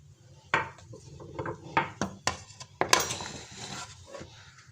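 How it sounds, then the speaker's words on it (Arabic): A knife cuts luncheon meat into pieces for an economical homemade pizza, giving a string of sharp, separate knocks and clinks against a board and dish. The strokes come at irregular intervals and sound close, with no talk. "وهنجيب اللانشون نقطعه بقى ايه اي حتت كده"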